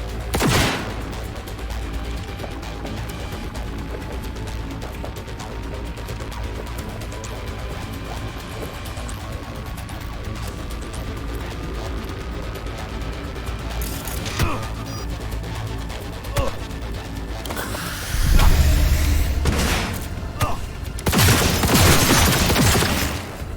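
Cyberpunk 2077 firefight with scattered gunshots and crashing hits over a constant noisy bed. Sharp bursts land early and midway, and heavier shooting swells near the end.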